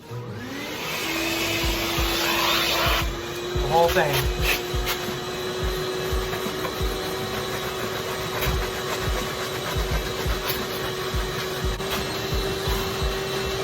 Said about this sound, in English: let's give this one more thorough vacuum